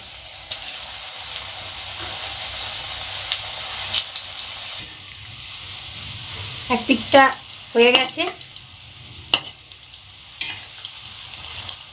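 Catla fish balls frying in mustard oil on low heat, a continuous close sizzle with bursts of popping and spatter toward the end, and a voice speaking briefly over it.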